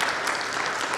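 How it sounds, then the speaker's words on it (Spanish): Audience applause fills a book presentation at a university book fair, steady dense clapping throughout at moderate level with no voices on top. "Mil gracias, un aplauso para ustedes."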